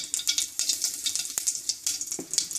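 Spices crackle and sizzle in hot oil in a pan for a green curry, with dense bright popping spattering throughout and a few sharper clicks, close up with no talking.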